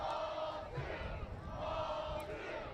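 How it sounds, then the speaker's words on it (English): Home crowd of Medford Rogues fans chanting during a minor-league baseball game against the Healdsburg Prune Packers, a sustained roar of massed voices with rhythmic swells, loud and close throughout. "Listen to the crowd chanting ball 2."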